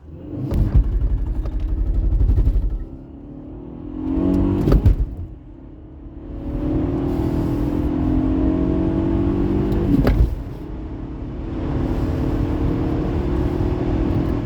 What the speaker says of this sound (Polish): silnik tak jak w GTI-ku, no to już dobrze brzmi